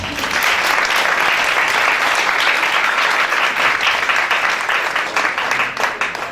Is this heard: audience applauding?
yes